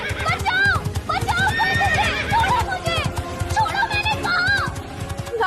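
A horse whinnies repeatedly in loud rising and falling neighs over steady clip-clopping hooves, mixed with excited voices and shouting throughout.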